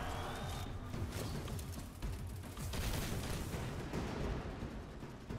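Dense rapid gunfire and booming explosions from the PS4 shooter Destiny 2 roll on continuously and loudly, with crackling bursts layered over deep rumbles and no voices.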